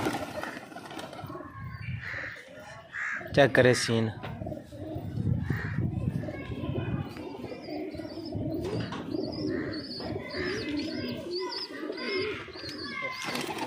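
A flock of pigeons coos steadily at close range, with chirps and an occasional flurry of wings, while a person speaks briefly over the birds.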